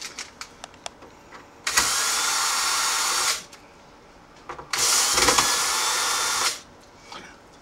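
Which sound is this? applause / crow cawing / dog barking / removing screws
removing screws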